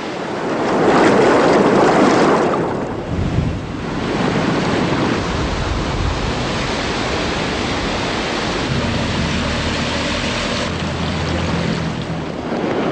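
Rushing, turbulent floodwater roaring continuously and loudly, a dense broadband torrent with a low rumble and no voices, from the 1999 floods at Labruguière, France, with mud waves along the Thoré river.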